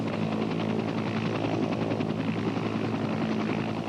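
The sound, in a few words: helicopter during shipboard refueling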